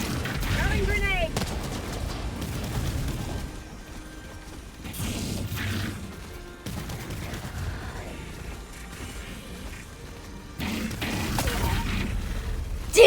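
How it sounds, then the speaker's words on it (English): A thrown grenade explodes amid gunfire in Helldivers 2, with bursts of booming blasts and rattling shots coming and going over several seconds, voices speaking between them. "Throwing grenade!"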